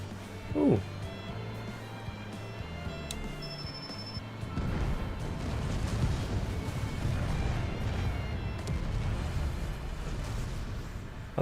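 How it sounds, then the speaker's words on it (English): Explosions in the online game Final Fantasy XIV, a sharp blast followed by a long rumbling roar of continuous detonations, fairly loud and sustained. "Explosions."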